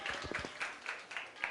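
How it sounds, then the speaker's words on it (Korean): Sparse, faint clapping from a small church audience at a teachers' Sunday event, a few hands beating in a loose, even rhythm for about a second and a half. "자, 우리 박수 한번 듣겠습니다."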